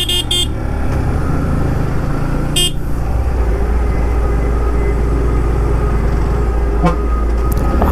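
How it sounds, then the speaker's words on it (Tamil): A car horn honks on the road, heard from a Yamaha MT15 motorcycle on the move, the toot standing out clearly over steady engine rumble and wind noise. "ஹாரன் அடித்தார் பார்த்தீங்களா?"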